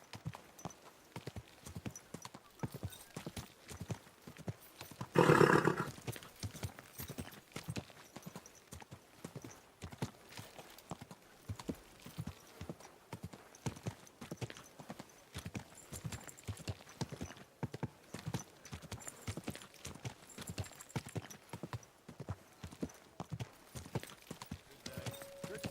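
Horse hooves clip-clopping at a steady walking rhythm in the medieval video game Kingdom Come: Deliverance, a continuous close patter with one brief louder burst partway through.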